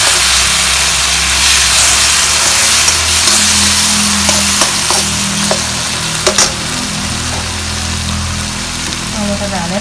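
Tomatoes fry with spices in a pan for egg curry, a steady broad sizzle with a few spatula clinks, close and loud, while a person talks over it.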